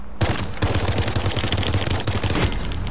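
Rapid automatic M4 rifle fire in a video game, a loud close burst of quick repeated shots that runs almost nonstop for about three seconds, with a short gap around two seconds, and no voices.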